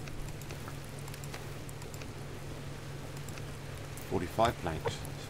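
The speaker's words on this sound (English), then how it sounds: "You can really hear the rain." Steady rain in the survival video game Subsistence, a soft continuous patter and hiss throughout with a low hum beneath, and brief faint voice-like sounds near the end.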